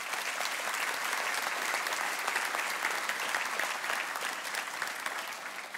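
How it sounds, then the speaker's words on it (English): Steady, dense applause from a large audience at a college of optometry white coat ceremony, filling the hall evenly and continuing without a break for the whole stretch. "Would you please give these 2 gentlemen a round of applause?"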